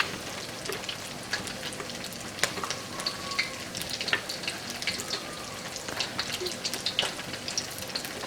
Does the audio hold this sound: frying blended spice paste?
yes